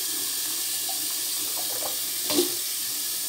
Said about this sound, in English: Get them out of the water and rinse and do it one more time.